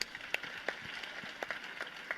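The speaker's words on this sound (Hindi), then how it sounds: "कृपया इस बात पे भी आप तालियां बजा दें।" Sparse, faint handclaps from an audience at a religious discourse, a few scattered individual claps rather than full applause, heard at a distance.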